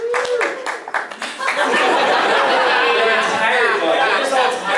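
Audience applause fills a room of trail and ultra runners at a talk, steady clapping mixed with laughter and chatter that swells after a brief lull and carries on close and loud.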